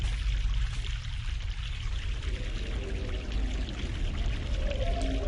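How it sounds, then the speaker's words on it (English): Steady pouring water from a mountain stream in the video game The Longest Journey, with a broad rushing hiss and low rumble, continuous and fairly loud throughout, no voices. "Okay, so that's the stream we gotta get."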